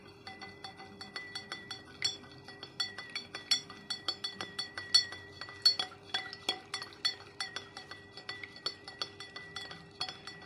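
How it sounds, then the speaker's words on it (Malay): Rapid, bright clinking of a spoon stirring food colouring and sugar into water in a glass, repeated taps against the sides in a steady rhythm for about ten seconds, close and fairly quiet. "Dan kita aduk selama 1 minit."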